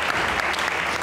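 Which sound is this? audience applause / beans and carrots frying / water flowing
audience applause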